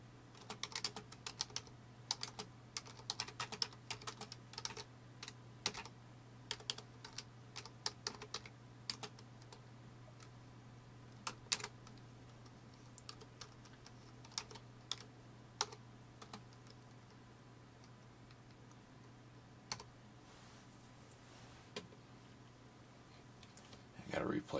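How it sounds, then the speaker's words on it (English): Someone types steadily on a computer keyboard, with rapid, irregular key clicks close by over a constant low hum, running without pause for about twenty-five seconds. "And continue typing in."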